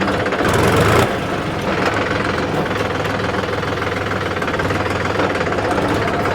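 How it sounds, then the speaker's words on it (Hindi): A Mahindra 275 DI TU tractor engine runs steadily with a low, knocking diesel idle while it is shifted into second gear. A brief louder burst opens the sound, then a constant rumble continues without speech. "यहाँ पर अगर मैं सेकंड गियर में डाल दूँ ना इसको"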